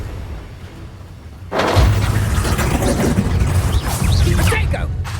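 Bombarda exploding spell from Hogwarts Legacy bursts in with a loud, sudden booming blast after a quieter stretch, followed by sustained crackling rumble and game combat noise.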